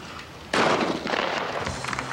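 One loud shotgun blast at a clay target, fired on the low house from Station 8 at the 1996 UIT Shooting World Cup, a sudden sharp report with a rolling echo that fades over a second or two.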